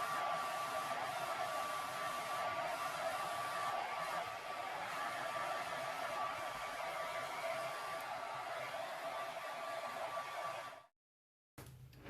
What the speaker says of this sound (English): I'm just going to go over it up and down with the hairdryer to open them up